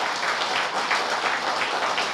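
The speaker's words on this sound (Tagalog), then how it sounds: "Come on, clap your hands." A church congregation applauds, a steady, dense wash of many hands clapping together, loud and continuous for a couple of seconds with no voices on top.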